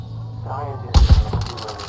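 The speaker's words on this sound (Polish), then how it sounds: "Czekaj, ja ze snajper w nich strzelam." A single loud, booming sniper rifle shot in Far Cry 5 bursts out after a moment of quiet murmur, with a brief echoing tail; a voice speaks just before it.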